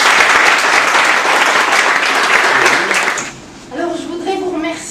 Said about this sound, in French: Applaudissez-la bien fort.